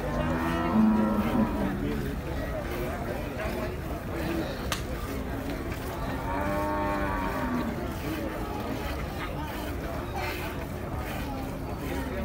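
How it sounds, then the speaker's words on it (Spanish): Dairy cattle moo at an outdoor livestock market, with long, drawn-out calls rising from the herd over a steady background of crowd noise and nearby voices. "Aquí es donde están siempre las mejores vacas lecheras"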